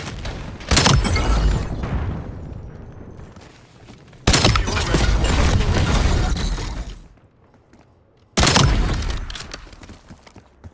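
Semtex grenade blasts in the video game Black Ops 7. Three loud, booming explosions come several seconds apart, each with a sharp onset and a long rumbling decay, followed by near silence between them.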